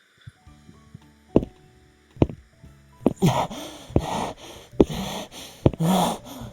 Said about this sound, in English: That's panting.